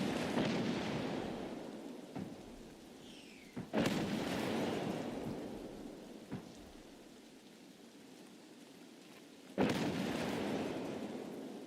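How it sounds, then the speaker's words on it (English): Mortar shells from the video game Escape from Tarkov thud down in several spaced, booming impacts, a few loud and close, with steady rain hissing underneath throughout. "I'm pretty sure I'm out of the mortar range, but guess we'll find out."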